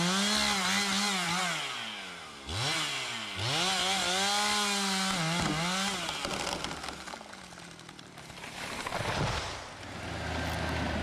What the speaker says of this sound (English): One person felling the trees with a chainsaw